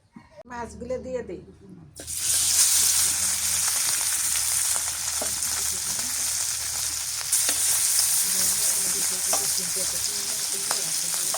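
Soybean oil in a pan bursts into a loud, steady sizzling hiss after a short spoken moment, the frying continuing close and dense with faint crackles and stirring.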